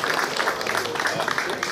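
Steady applause from a crowd at a vintage car gathering fills the whole stretch, an even wash of clapping with no pauses.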